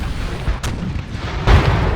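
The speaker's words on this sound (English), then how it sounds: "it looked like the cannons were ready to fire once more" Cannon artillery fire rumbles in a Napoleon Total War battle, with one deep boom surging up near the end over a steady loud battlefield din.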